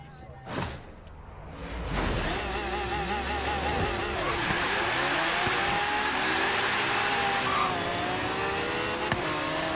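A car driving at high speed in the racing game Forza Horizon 3, a model with the game's highest top speed: a close engine roaring and revving through shifting gears, with a rising whoosh as it picks up speed.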